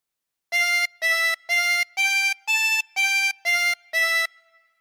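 A chromatic harmonica plays a slow melody from All Through the Night, eight evenly spaced, sustained reedy notes, each clearly separated, alone and close.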